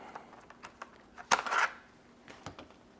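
A single sharp snip as an aerial root is cut from a Monstera Burle Marx Flame, followed by a brief rustle of leaves, all close and otherwise quiet.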